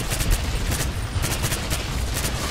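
Dense, continuous gunfire from Medal of Honor: Warfighter, a French-language playthrough, with rapid overlapping shots forming a loud fusillade throughout, no voices.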